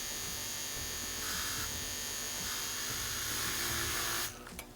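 An electric milk frother whirs with a steady high-pitched buzz as it froths a chai spice yerba mate latte, close up and alone, then cuts off abruptly near the end.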